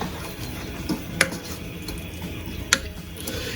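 Homemade habanero hot sauce being stirred in a pan, with low scraping and a couple of distinct metallic clinks from the utensil against the pan over a faint background hiss.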